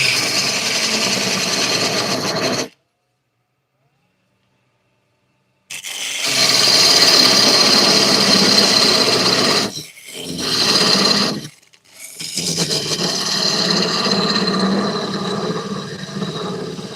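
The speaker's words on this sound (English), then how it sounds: "Let me just sand the bottom of this" A wooden piece is sanded smooth on its bottom in a woodworking shop, a steady close rasping rub that runs for stretches, drops out into silence for a few seconds, and returns with brief pauses.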